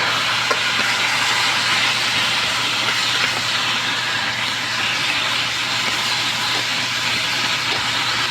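Leeks, fennel and garlic sizzle in a hot pot with a loud, continuous hiss and crackle, close and steady throughout, with no voices.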